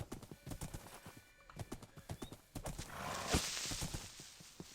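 A Minecraft horse gallops in quick, rhythmic hoof clops close by, then breaks into a loud neigh before the hoofbeats pick up again.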